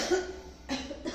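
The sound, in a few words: cough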